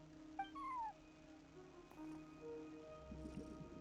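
A cat meows in a video game set at a front desk, one rising-then-falling call near the start, heard over soft game music and ambience with faint background shuffling.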